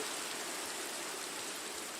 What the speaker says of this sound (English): that rain came